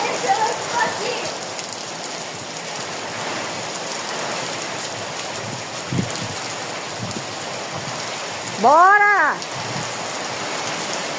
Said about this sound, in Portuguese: Vem que aumentou a chuva